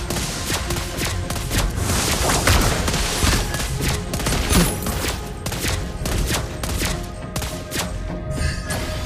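Lesley, a sniper hero in the Mobile Legends video game, fires in a dense, continuous barrage of sharp gunshots mixed with heavy thuds and crashing impacts, loud and close for the whole stretch.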